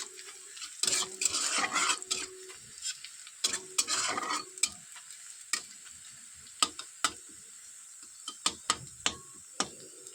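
Onions frying lightly in a pan for a fish curry give bursts of sizzling hiss over the first few seconds, then scattered sharp taps and scrapes of a utensil stirring against the pan. No voices.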